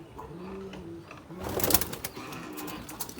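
Domestic pigeons of the Istanbul and Mardin breeds coo nearby in soft, low, repeated calls. A burst of fluttering or shuffling noise follows from about halfway through, and there is no clear speech.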